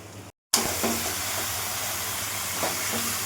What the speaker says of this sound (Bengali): মশলা থেকে তেল ছেড়ে দিয়েছে, এই অবস্থায় আমরা খাসির মাংসটা দিয়ে দেবো